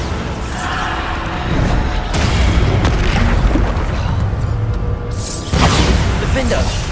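Bombarda blasting spells explode in Hogwarts Legacy during combat, a loud, dense wall of booming blasts and crashes that swells and dips over several seconds.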